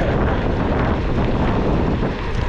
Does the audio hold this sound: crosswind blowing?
yes